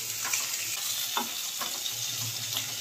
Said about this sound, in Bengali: ফোড়নের পেঁয়াজটা আগে ভেজে